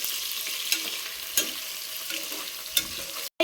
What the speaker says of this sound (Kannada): ಯಾವ ಥರ ಸಿಡಿತಾ ಇದೆ ಚಿಟಪಟ ಚಿಟಪಟ ಅಂತ.